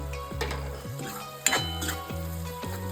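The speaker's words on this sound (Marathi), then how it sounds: "छान मिक्स करून घेऊ मसाले।" Malvani masala and spices stirred as they fry in a pan, a spoon scraping and clinking in repeated strokes over a soft sizzle, with one sharper knock midway.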